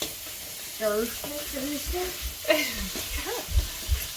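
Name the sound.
stirring melted cream cheese and mozzarella for fathead dough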